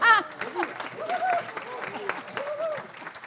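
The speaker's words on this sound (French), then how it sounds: "mon cher camarade David Amiel, que je vous demande d'applaudir." An audience applauds during a political party's national council meeting, a brief crackle of clapping under and between a man's speech.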